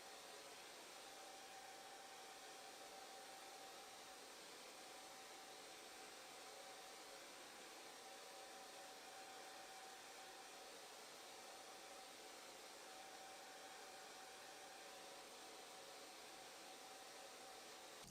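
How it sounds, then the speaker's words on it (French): Hair dryer running steadily while drying hair at a hairdresser, a constant, even airy roar with a faint motor whine, heard alone throughout. "sécher les cheveux au séchoir évidemment"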